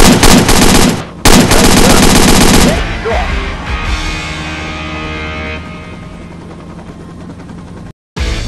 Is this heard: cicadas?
no